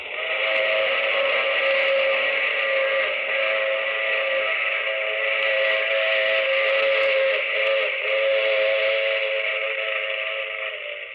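A train whistle sound effect from a 1951 radio mystery drama: one long, loud, steady whistle tone that holds for about eleven seconds with no voices over it.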